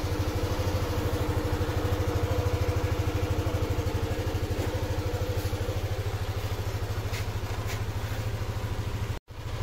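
A Yamaha Aerox scooter engine, just repaired after an error 12 fault, idles steadily with an even, rapid putter and faint mechanical clatter, close and alone, cutting out briefly near the end.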